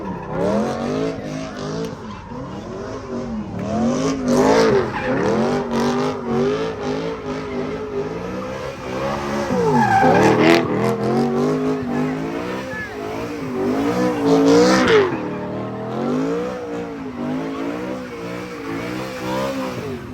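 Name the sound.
car spinning tires at car meet, tire squeal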